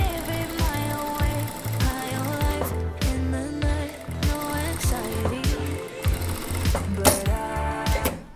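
A sewing machine stitches a sleeve seam on a boiled wool coat, giving a loud mechanical ratcheting clatter with tonal whine that runs throughout, mixed with other sounds.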